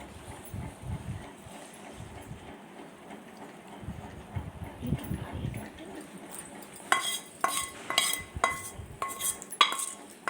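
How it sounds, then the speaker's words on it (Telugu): Turmeric and asafoetida tempering goes into lemon pickle: soft stirring and scraping at first, then a run of sharp metallic clinks as a spoon knocks the vessel, close and fairly loud in quick uneven strikes. "అది ఇప్పుడు దీనిలో పోస్తానండి పచ్చట్లు"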